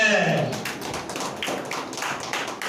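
Congregation clapping hands during a Tamil Sunday church worship service, a run of repeated claps in a reverberant hall, fairly steady and moderately loud throughout.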